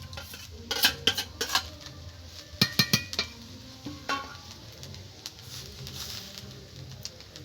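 Vegetables hit a hot pan for fried rice, giving a soft ongoing sizzle broken by several sharp clanks and scrapes of a spatula against the pan, with birds cooing faintly in the background.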